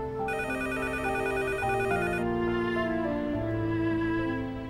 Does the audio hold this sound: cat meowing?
no